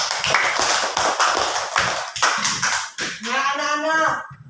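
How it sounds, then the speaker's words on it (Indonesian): A classroom of students claps together in a sustained burst of dense, steady applause, with a teacher's voice over it and a sung or chanted phrase as the clapping ends. "Tepuk tangan dulu untuk kita semua."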